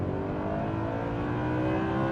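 A first-generation Audi R8 with a V8 engine revs hard under acceleration, a continuous, dense engine roar with a rising tone heard from inside the car.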